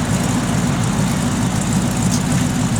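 A 1967 Chevrolet Chevelle SS engine running, a loud, steady low rumble close by with no voices, holding an even tone throughout.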